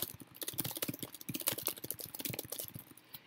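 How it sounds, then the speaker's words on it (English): Fast, busy clatter of keys on a computer keyboard, rapid irregular clicks packed closely together at a steady warm-up pace, heard close and alone. "whenever I do this fast typing"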